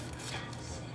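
A knife chopping red onion for guacamole on a cutting board, a steady run of close, quick cutting taps with no talk.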